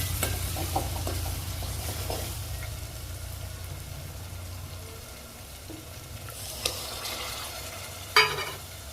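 Sprouted matki beans are added to spiced masala frying in a pan for misal pav and stirred, giving a close, steady sizzle with scraping stir strokes and a sharp clink near the end.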